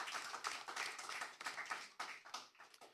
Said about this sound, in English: Please give our timekeeper a round of applause.